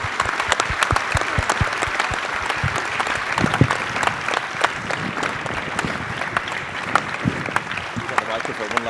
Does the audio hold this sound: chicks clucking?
no